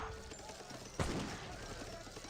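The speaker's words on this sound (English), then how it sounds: "the halberdiers will get ripped apart by the cannon" A single cannon shot booms out mid-way through an Age of Empires 3 battle, a sharp low blast with a short rumbling tail, set against quieter game ambience and a commentator's voice.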